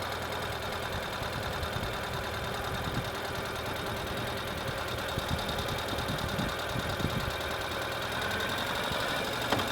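A Ural sidecar motorcycle engine runs steadily in second gear near idle, a continuous close throbbing rumble with light knocking that holds for about ten seconds and has no voices over it.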